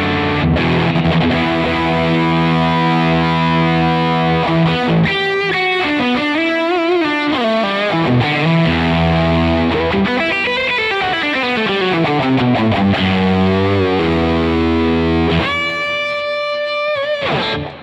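Electric guitar driven through a boost pedal set to its extreme, loud and saturated, with sustained chords giving way to bending, sliding lead lines and a final ringing chord, played alone without talk.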